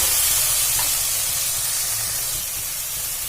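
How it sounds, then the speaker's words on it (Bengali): Tomato with ginger and green chili paste sizzling steadily as it is stirred and fried in a pan, a continuous loud hiss with no talking. "আবারও এটা ভালো করে নাড়াচাড়া করে ভেজে নেব"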